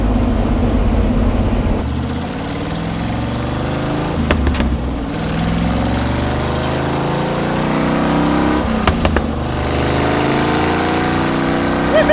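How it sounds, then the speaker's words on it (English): Pinto Wagon engine running steadily with a continuous low drone, apparently overheating with heat coming through the firewall, with brief rattly bursts around four and nine seconds and no talk. "The motor's right there."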